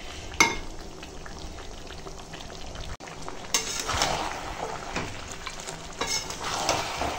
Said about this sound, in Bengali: তো ভিডিওটা দেখতে থাকো আর আমি মাংসটা কষাই